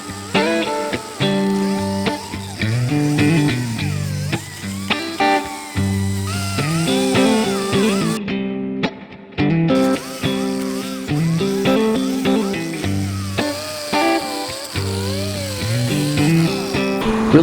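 A power tool works over the rough teeth of a ratchet strap, its loud motor whine rising and falling in pitch as it bites and eases off, with a short pause partway through.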